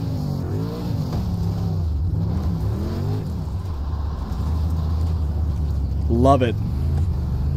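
A dirt late model race car engine in a video game drones low and steady, rising and falling in pitch as it revs, with a sharp high rev spike near the end and someone talking over it.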